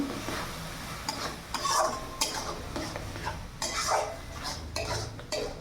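Masala paste being stirred in a pan for a Bengali egg curry, with steady scraping and clinking of a spoon against metal and a light sizzle underneath, repeated strokes close by, no talking.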